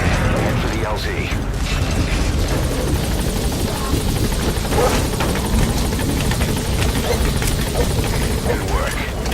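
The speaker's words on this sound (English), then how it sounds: "Extraction of support helicopter requested." A support helicopter arriving for extraction in Metal Gear Solid V, its steady rotor thrum and engine whine running throughout, loud and close, with clicks and distant gunfire-like bursts.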